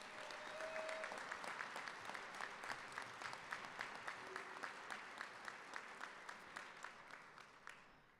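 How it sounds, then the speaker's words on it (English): Steady applause from an audience at an EMS awards program competition, a dense wash of many hands clapping at moderate distance, holding for about eight seconds before thinning slightly at the end. "If we could have a round of applause,"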